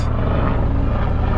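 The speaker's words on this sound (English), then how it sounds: "sorry about the plane." A propeller airplane passes overhead, a loud, steady droning roar that fills the whole stretch without a break, drowning out everything else.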